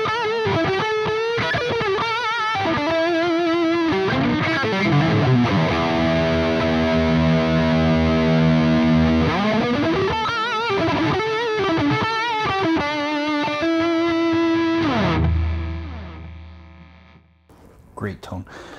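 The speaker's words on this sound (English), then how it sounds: "as soon as I put the single coil on," Donner DST-400 electric guitar on its bridge single-coil pickup through distortion, ringing sustained notes, slides and bends, loud and steady until the sound drops off near the end, then a few faint handling noises.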